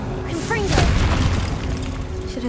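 A Confringo blasting spell explodes in Hogwarts Legacy, a deep booming burst with a rumbling low-end swell that rises, peaks, and lingers over steady game ambience and faint musical tones.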